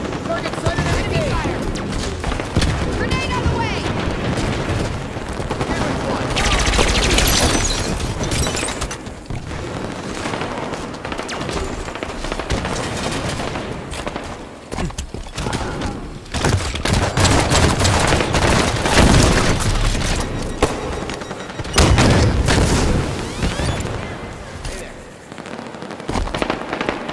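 Enemy gunfire in a Halo video game, with dense, continuous bursts of weapon fire and explosions, loud and sustained, with game voices speaking over the battle.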